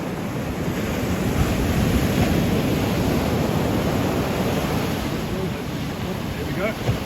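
Ocean swell breaking on an East London shoreline makes a steady, broad wash of surf with wind noise, continuous and fairly close, no voices over it.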